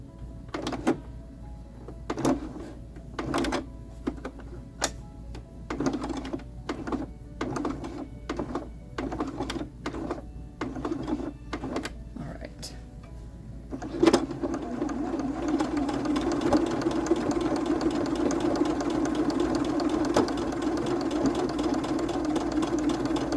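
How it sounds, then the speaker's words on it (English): A home sewing machine stitches slowly through many thick layers of jelly roll quilt fabric, a run of separate heavy thumps that gives way to a steady, louder motor whir. "This is a lot of layers of fabric, so I don't want to break my machine."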